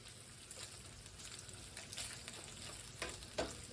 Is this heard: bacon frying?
yes